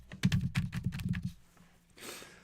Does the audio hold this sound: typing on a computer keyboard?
yes